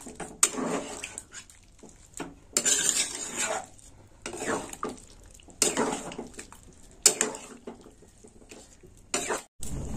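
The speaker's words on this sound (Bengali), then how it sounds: "এবার দিয়ে দেবো ডাল, সেদ্ধ ডাল দিয়ে দিলাম" Boiled moong lentils tipped into a pot of cooking vegetables and stirred, with repeated bursts of spoon scraping and clinking against the pot, close by and fairly quiet, separated by short pauses.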